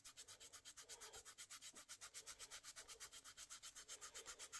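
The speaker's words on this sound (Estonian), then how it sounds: "Siin tuleb hakata vaikselt lihvima" Wood being sanded by hand, a faint but very regular back-and-forth rasping, roughly five strokes a second, continuing steadily with no voices.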